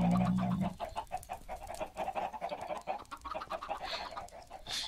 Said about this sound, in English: Stay away from the chicken.